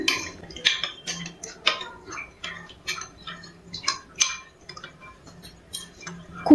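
A spoon clinks rapidly against a container while Amul milk powder is mixed into liquid milk, bright repeated taps and scrapes in an irregular rhythm, close and alone.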